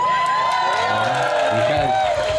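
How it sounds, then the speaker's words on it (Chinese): A concert audience at a New Year's Eve countdown show by a band at Tiehua Village claps and cheers in a loud, continuous crowd roar with whoops, while voices carry over the top. "你看，这样就会拍手了呢"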